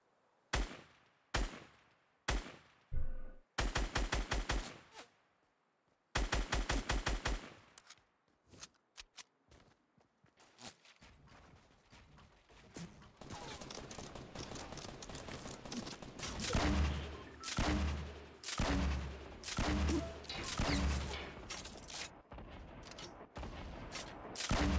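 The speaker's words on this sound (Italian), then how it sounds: "Stavo sparando." Video game gunfire in several separate bursts, with short sharp volleys early on, then a denser, sustained stretch of rapid shots and heavy thuds, loud and close.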